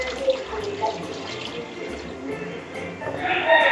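Water pours steadily over beef trotters in a cooking pot while paya is prepared, a continuous splashing gush that swells louder toward the end.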